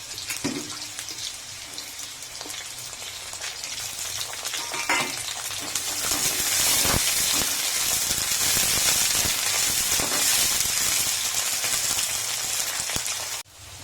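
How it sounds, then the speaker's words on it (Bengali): Green beans and chopped capsicum fry in hot oil in a pan, a steady bright sizzle that swells louder midway and holds, with a few scraping stirs early on. "বিনসটা অল্প ভাজা হয়ে গেছে, এর মধ্যেই দিয়ে দিচ্ছি ক্যাপসিকাম কুচনো"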